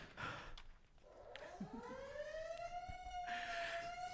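A car siren sound effect in a live radio play of It's A Wonderful Life winds up from low to a high, steady wail and holds there over a faint background, with no one speaking.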